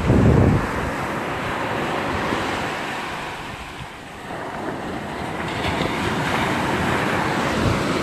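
Sea water surging up a sandy beach and washing over writing traced in the sand: a steady roar and hiss of surf with wind buffeting the microphone, a brief lull, then rising again. No voices.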